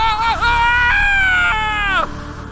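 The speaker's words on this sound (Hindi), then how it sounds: "आरव की चीख जंगल में गूंज गई।" A man's loud scream used as a sound effect in a horror story set in a forest, one long wavering cry with a brief dip and rise before it cuts off, over a low background bed.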